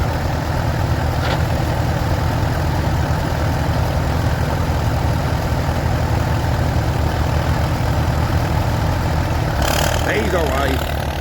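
A vintage tractor engine at a country show pulls away in gear, its low steady rumble running throughout against crowd noise, with people talking nearby.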